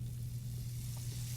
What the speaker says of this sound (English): the soft sizzle of oil on a pan